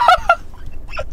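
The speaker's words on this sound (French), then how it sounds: "Il fait un petit klaxon." An Uber car's horn gives short honks: two quick bursts close together, then a third a moment later, loud and near, with no talk over them.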